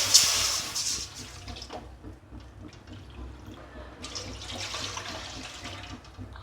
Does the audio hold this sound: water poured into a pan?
yes